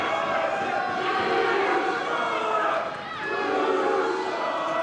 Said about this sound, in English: East Sayreville cheering their wrestler, Bouchard.